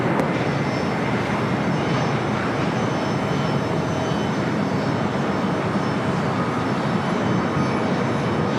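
Airliner arriving at LAX airport, a loud continuous broadband engine roar holding steady throughout, close and unbroken with no voices.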